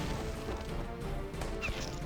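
A fireworks attack in the Battle Nations strategy game gives a dense, continuous barrage of crackling, crashing bursts that stays loud throughout.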